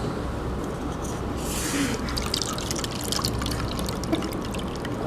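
Soup broth poured out of a container, a steady close trickle and patter of liquid with scattered drips, running continuously without a break.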